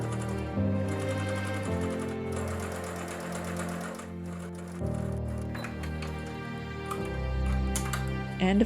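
A sewing machine stitches tie straps cut from a bedsheet in quick continuous bursts of rapid mechanical clatter, with short pauses and restarts, close by and with no voices.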